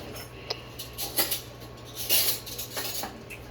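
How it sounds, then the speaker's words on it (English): A large metal spoon scrapes and clinks against a lasagna dish while pushing cheese sauce around, several soft metallic scrapes and taps close by over steady background hum. "And you'll use that to push the cheese sauce around"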